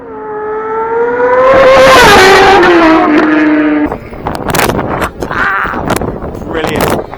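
A superbike at the British Superbike round at Donington Park in 2021 screams past on the race track, its engine pitch rising and then sweeping down loudly and close, followed by rougher crowd and engine noise.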